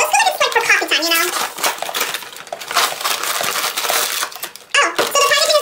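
Crispy cracker packaging being torn and crinkled open, a dense rustling, crackling stream that runs loud and close for several seconds with a brief pause near the end.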